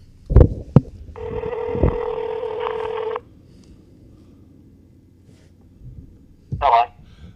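A telephone line being dialed and ringing before a call is picked up, with short tone bursts, a sustained ring tone lasting about two seconds, then quieter line noise and a brief click at the end.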